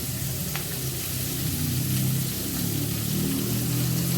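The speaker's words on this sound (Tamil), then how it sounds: "இப்போ பாருங்கள் வெங்காயம் நல்லா ப்ரௌன் கலராக வதங்கிட்டு" Onions sautéing to a light brown in a pan for a Tamil dried-fish and egg thokku, a steady, even sizzle holding close and constant throughout.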